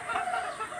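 Chickens cluck and murmur at morning feeding on a farm, a close, steady chorus of soft calls.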